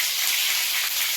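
Curry leaves sizzle in hot oil for Kerala-style fish fry, a dense, bright, steady hiss close by with no pauses.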